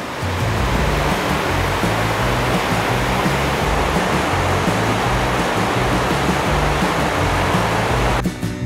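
Rushing river rapids roar steadily beside a cement path, a loud continuous broadband wash of churning water filling the whole clip with no voices.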